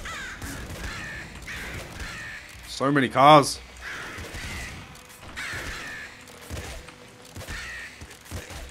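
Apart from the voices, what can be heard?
crows cawing in video game Nuclear Throne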